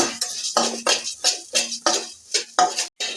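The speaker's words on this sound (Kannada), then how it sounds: "ನೋಡಿ ಧನಿಯಾ ಫ್ರೈ ಮಾಡ್ಕೊಳ್ತಾ ಇದ್ದೀನಿ ಇವಾಗ ಇದಕ್ಕೂ ಸ್ವಲ್ಪ ಆಯಿಲ್ ಬಿಟ್ಕೊಳ್ತೀನಿ" Coriander seeds frying in oil in a pan, stirred with about eight rhythmic scraping strokes under a faint sizzle, close and fairly quiet.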